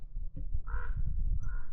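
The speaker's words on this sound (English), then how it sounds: "What's your problem, Crow?" A crow in a desert canyon gives two hoarse caws over a low rumbling wind background, fairly close, with a short pause between calls.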